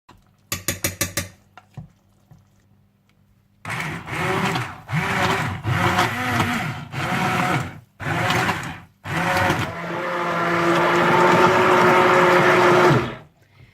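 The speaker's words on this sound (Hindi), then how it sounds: "तो आप इसे हैंड ब्लेंडर या ब्लेंडर के साथ अच्छी तरह से ब्लेंड कर लीजिएगा।" A hand blender whirs through soft cooked pumpkin for soup in several loud, close bursts with brief pauses between, ending in one longer steady run; a few sharp clicks come first.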